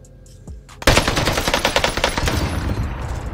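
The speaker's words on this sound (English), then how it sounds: "Those bastards are shooting at me." Rapid automatic gunfire in the Warzone video game, a dense burst of shots starting abruptly after a quiet moment and continuing steadily, loud and close.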